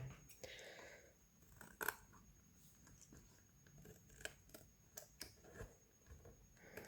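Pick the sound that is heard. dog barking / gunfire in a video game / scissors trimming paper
scissors trimming paper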